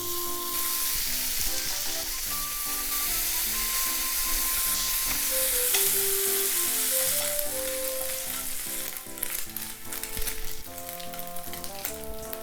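Bacon sizzles and crackles steadily in a hot pan with frying oil, with occasional stirring scrapes, while soft background music plays underneath.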